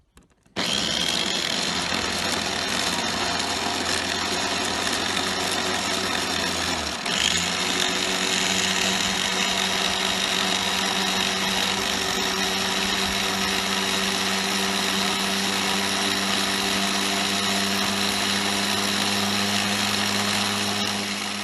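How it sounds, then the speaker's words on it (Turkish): A blender whirs through chunks of watermelon, a loud, steady motor whine that starts abruptly and runs without a break for about twenty seconds, shifting slightly in pitch partway through. "Evet arkadaşlar şimdi karpuzumu bir dakika çırpacağım."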